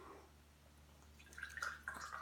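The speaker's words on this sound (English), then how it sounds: "Let's give it a pour." Cutty Sark blended Scotch whisky from Speyside, Scotland, poured from the bottle into a glass, a soft close trickle and splash that grows over the last second, with no talking.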